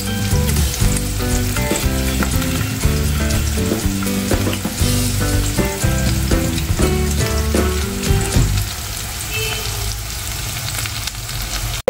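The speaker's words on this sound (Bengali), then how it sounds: "এবার হচ্ছে চিকেনের পিসগুলো ভেজে নেব" Chicken pieces frying in a pan for a cashew nut salad, giving an even, continuous sizzle that holds steady throughout at moderate loudness, with no talking.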